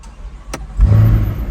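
A Chevrolet Corvette Stingray fires up via its start button: a short click, then the engine catches with a loud, deep rumbling burst that settles into a strong idle.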